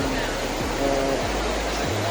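Steady broadband rush of a waterfall in Giriwaringin village, Kuningan, a continuous loud roar of falling water with low thumps beneath, no voices heard.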